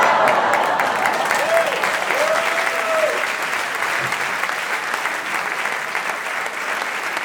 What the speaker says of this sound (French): Tout le monde applaudit sauf le mec là